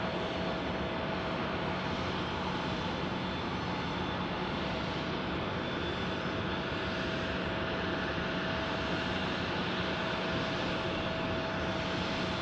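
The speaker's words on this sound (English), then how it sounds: "Here's your Pilatus PC-12, Hans." A Pilatus PC-12 turboprop airplane at an airport in Tucson gives off a steady, broad engine roar that holds constant throughout with no talking.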